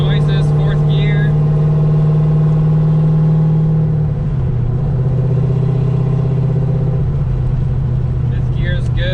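A Corvette drift car's engine drones loud and steady while accelerating in fourth gear, a constant close-up hum with a slight pitch shift midway and no speech.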